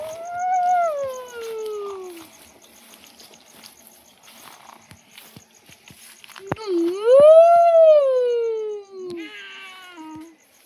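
A dog howls nearby at night: one long, falling wail, a quiet gap filled with faint crickets and small ticks, then a second rising, wavering howl that fades out at the end.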